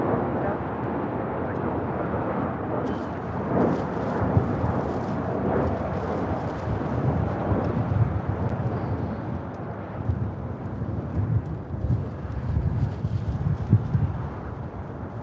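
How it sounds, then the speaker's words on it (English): A LATAM Boeing 787-8 Dreamliner departs LAX for Santiago, its engines a moderate, rumbling roar with gusty fluctuations that builds somewhat in the second half. "Next departure at Latam Airlines Flight 603 heading to Santiago. It's the 787-8 Dreamliner."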